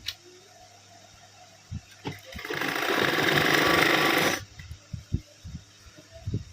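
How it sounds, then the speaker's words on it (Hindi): Sewing machine stitching salwar fabric: a short, fast mechanical run of rapid needle clatter lasting a couple of seconds, close, with scattered handling knocks before and after. "और कपड़े को सीधा करते हुए अच्छी तरह से इस पर सिलाई लगा देंगे"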